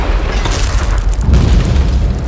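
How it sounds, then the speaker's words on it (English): A powerful explosion effect blasts and rumbles loudly, a second heavy boom swelling about halfway through into a deep roaring tail, heard alone without voices. "Explosions."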